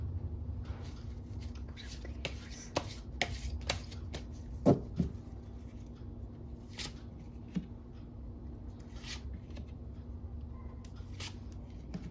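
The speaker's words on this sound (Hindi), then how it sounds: "जब तक मैं शफल करती हूँ आप सब लोगों को बिल्कुल पॉजिटिव रहना" Tarot cards being shuffled by hand, giving repeated dry papery slaps and riffles at an uneven rhythm, fairly close and moderate in level, with soft whispery sounds mixed in.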